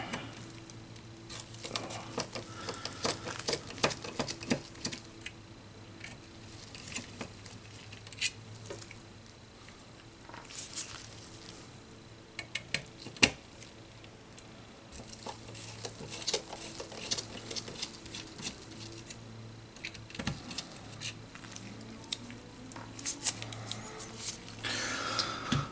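Small screwdriver backing out two screws that hold the metal shielding inside an N64 game cartridge, heard as soft close scraping, ticks and light clicks repeating in short bursts over a steady background hum, with no talking.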